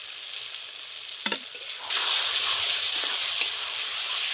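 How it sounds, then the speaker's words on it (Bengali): Garlic, ginger and spice paste frying for a chicken dish, a hissing sizzle that jumps louder about halfway as more paste hits the hot pan, with a few stirring knocks and no voices. "এইবার আমি উপর থেকে কিছুটা গোটা রসুন দিচ্ছি"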